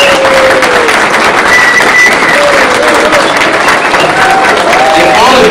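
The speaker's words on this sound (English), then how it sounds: "So let's give Earl a great round of applause" A crowd at a real estate association breakfast meeting applauds, a loud dense wash of clapping that holds steady throughout, with a few faint voices and whistles mixed in.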